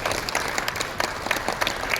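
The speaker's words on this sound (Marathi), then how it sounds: "सगळ्यांनी एकदा जोरदार आपण टाळ्या वाजवूया" A crowd at a Marathi award ceremony and launch function claps loudly and steadily for about two seconds. The applause is dense and sustained, with no clear voices over it.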